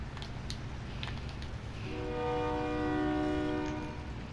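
In a first-person shooter game, a train rumbles in the background and a loud train horn sounds for about two seconds in the latter half, with no talk.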